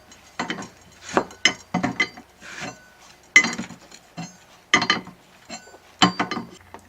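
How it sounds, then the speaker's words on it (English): Metal wrenches clink and ratchet in short, separate bursts as the filter housing of a Dredgemaster dredge is loosened and removed, close up with brief pauses between strokes. "Changing of the filter element can be performed by using 2 wrenches"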